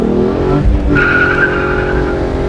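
A Hyundai Genesis Coupe with a swapped-in manual transmission accelerates hard while the rear tires slip, its engine roaring loudly and close as a sustained tire squeal rises and holds.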